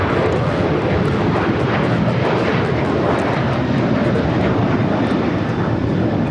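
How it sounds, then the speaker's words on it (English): A Delta Airlines Boeing 737-800 jet taking off, its engines a loud, continuous roar of broadband thrust that stays powerful and steady throughout, heard alone without voices. "This is Delta Airlines 615 taking off to Cancun on the 737-800."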